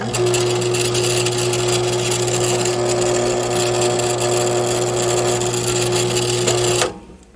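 A power tool drills a hole in copper sheet for jewelry, running as a loud, steady high-pitched whine with a constant motor hum for nearly seven seconds before abruptly stopping, close up with no talking.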